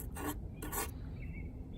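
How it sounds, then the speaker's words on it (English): Two short rasping scrapes on a mason bee house as gross residue is scraped off, close and fairly loud, followed by a quieter fading rub. "I've just decided to like scrape this off a little bit because it's kind of gross."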